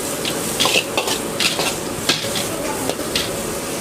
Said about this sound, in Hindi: मैक्रोनी मिक्स की जा रही है।